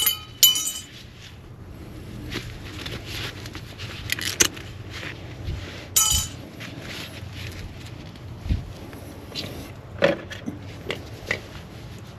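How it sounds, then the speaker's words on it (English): Metal retainer clips come off a 2008 Honda Civic brake caliper bracket in a garage, with scattered light metallic clinks and jingles and a few sharper taps over low background noise. "remove these 2 retainer clips, inspect the caliper, and then clean the surface"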